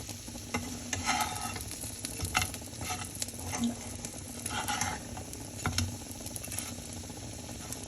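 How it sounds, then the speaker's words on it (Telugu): Pieces of bocha fish fry in a pan with a steady, close sizzle, punctuated by repeated stirring and scraping clatters of a utensil. "ఇది మా బాబుకి ఫ్రై చేస్తున్నాను"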